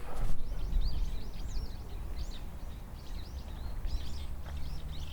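Birds chirp and trill continuously at a distance near a hilltop castle over a steady wind-like outdoor rumble, with a brief thump at the start.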